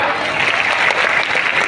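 An audience at a speech applauds in a dense, continuous burst of clapping that fills the whole short moment.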